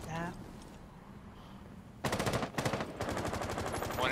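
Video game gunfire erupts in rapid bursts of machine-gun shots, loud and close, with a brief pause between volleys and faint talk at the start.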